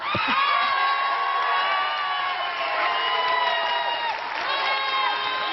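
A live concert audience applauds and cheers for a singer in 1985, giving a dense, steady roar of clapping and shouts that lasts throughout.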